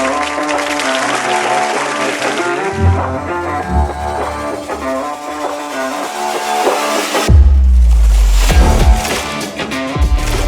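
An awards-ceremony audience applauds steadily as the winners are called to the stage, the clapping running under loud stage music that hits a heavy, booming beat partway through.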